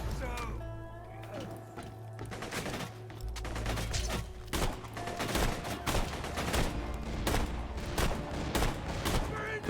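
Rapid rifle shots in Borderlands 2, bursts of sharp cracks and clanking mechanisms that grow denser toward the end, mixed with game music tones and a talking voice.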